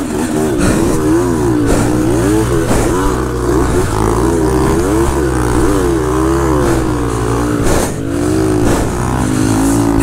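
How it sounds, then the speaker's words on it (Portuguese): A Yamaha DT-180 dirt bike on a trail roars loud and close, its two-stroke engine revving up and down repeatedly in rising and falling surges for the whole stretch, with no talking. "Essa moto é um monstro!"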